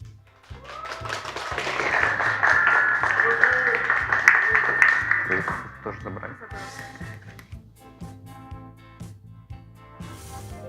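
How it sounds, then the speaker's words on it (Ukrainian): Audience applause at a barista championship final rises into a loud, sustained burst of clapping, then thins and fades after about six seconds, with voices underneath. "Давайте ще трошки оплесків."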